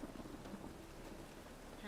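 Steady rain hisses with a low rumble of thunder in the video game The Witcher 3, a faint, continuous wash of storm sound with no talking.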